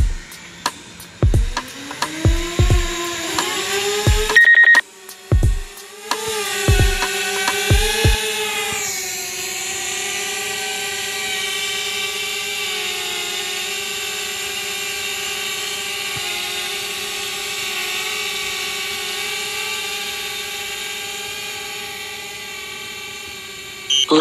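A DJI Spark drone hovers and flies over a beach, its steady high-pitched propeller whine holding close and loud for most of the clip after several sharp bursts and clicks near the start.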